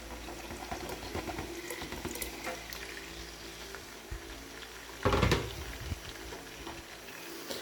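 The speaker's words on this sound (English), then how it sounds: "the oil is heated up now, so we'll go ahead and drop in the pork" Pork pieces go into heated oil for deep frying, and a steady bubbling fry rises into a brief louder burst of sizzle as more meat drops in, close and with no talk.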